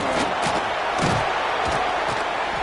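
Stadium crowd in a college football video game featuring Tennessee, a dense steady roar punctuated by repeated thumping beats, loud and continuous with no break.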